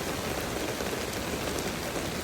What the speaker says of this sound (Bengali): ঝুমঝুম বৃষ্টির আওয়াজ আমার খুব শুনতে ভালো লাগে।